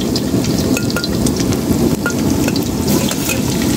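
Garlic fries in a pan for turmeric rice with shrimp and pork liver, producing a loud, dense, continuous crackling sizzle close up with no talk.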